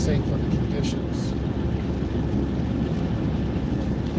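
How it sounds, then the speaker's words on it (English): Strong wind buffets a car driving on a highway at night, a constant loud rushing and roaring with low rumble and no let-up. "It's really windy."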